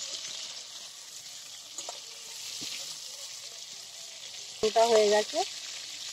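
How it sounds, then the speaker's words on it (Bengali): Prawns fry lightly in a pan in a village kitchen in Bengal, a constant close sizzle with faint stirring clicks. A person speaks briefly near the end over the hiss. "অল্প একটু ভেজে উল্টে নেব।"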